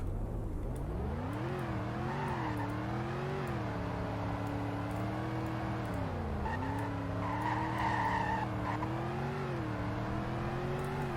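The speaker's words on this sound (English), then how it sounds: "And here's what it sounds like to drive." A video game car, the 2015 Chevlon Calle, revs up and down continuously while driving, its pitch rising and falling, with tires squealing along the way.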